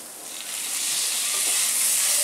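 Soaked rice and lentils fry together in a pan for Bangladeshi bhuna khichuri, a loud, steady sizzling hiss that swells slightly as it goes on.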